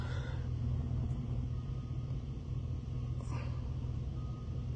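Idling school bus engine at a Michigan bus contractor's lot, a steady loud low rumble throughout, with faint beeps and no speech.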